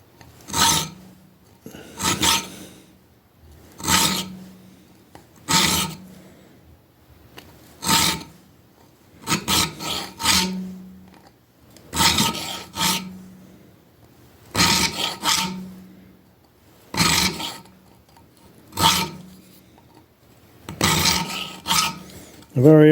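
Hand file rasping across the spine of a knife to cut jimping, in regular bursts of short back-and-forth strokes separated by brief pauses, close and crisp throughout.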